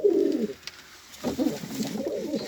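Soft cooing from a male Ankara pigeon in two bursts separated by a short pause, a low throaty warble close by.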